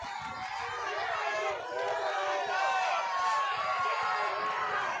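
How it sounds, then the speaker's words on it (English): At a cage fighting event the crowd roars and cheers in a dense, sustained wave that swells midway, with commentators talking over it. "Big pop in the crowd for Lucas Schaefer."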